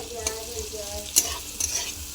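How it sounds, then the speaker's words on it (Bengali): Onions frying in a pan for a lote fish curry, a soft steady sizzle broken by a few sharp stirring scrapes, close and fairly quiet with no talk. "তো আমি পেঁয়াজটাকে একটু ভেজে নেব।"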